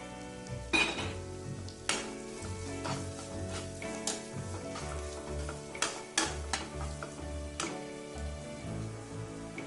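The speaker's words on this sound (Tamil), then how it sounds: "முந்திரியை கொஞ்சம் எண்ணெயில் வறுத்து சேர்த்திக்கலாம்." Cashews frying in oil for butter chicken sukka, a steady close sizzle with scattered clinks of a spoon against the pan and soft stirring scrapes, no voices.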